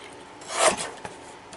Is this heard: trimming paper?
yes